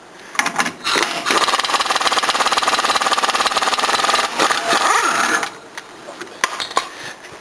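An impact gun with strong torque hammers at tight fasteners on a Toyota Corolla, a loud rapid rattling burst lasting several seconds between short clanks and taps in a garage.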